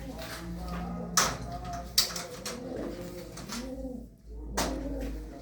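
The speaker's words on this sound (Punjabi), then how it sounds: "ਇਹ ਬਾਈ ਮੋਰ ਵਾਲਾ ਕਬੂਤਰ ਆ" Pigeons coo in soft, repeated rolling calls, close by, with a few sharp taps and rustles among them and someone speaking at times.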